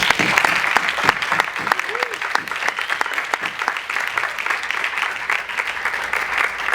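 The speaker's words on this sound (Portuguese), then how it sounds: "Uma salva de palmas." A crowd claps steadily for several seconds, a dense, sustained round of applause without pause.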